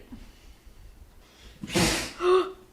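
A single sharp sneeze with a quick inhale before it, followed by a short voiced exhale, in an otherwise quiet room.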